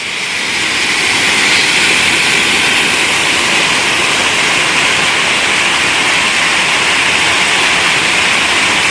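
A small waterfall at the Devil's Cauldron roars as a loud, steady, broad rush of falling water, close by and unbroken throughout with no voices.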